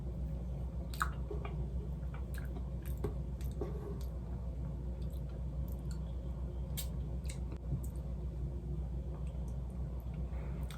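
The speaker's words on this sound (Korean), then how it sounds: "이번엔 흑임자 케이크를 먹어볼게요." Black sesame cake being eaten close to the microphone, soft moist squishes and light chewing clicks scattered over a steady low background hum, with no voices.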